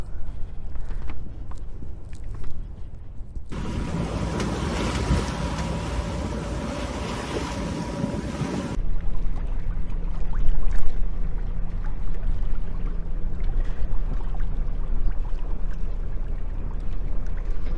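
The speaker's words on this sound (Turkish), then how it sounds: "Biraz dalga var. Tekneler birbirini çok sallıyor." Water sloshes and laps steadily around anchored sailboats rocking in waves, with wind and a constant low rumble throughout; no voices.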